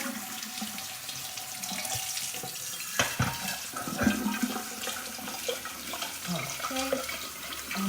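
Hazelnuts being washed under running water at a kitchen sink, a steady gush from the tap with splashing and rattling as the nuts are rinsed and stirred by hand, close and continuous.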